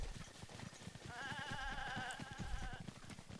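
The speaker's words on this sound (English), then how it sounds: "This seems like a lot of goat." Goats bleat in the Zelda Breath of the Wild game world, one long wavering cry rising over a steady stream of soft hoof-like clopping and ambient game noise.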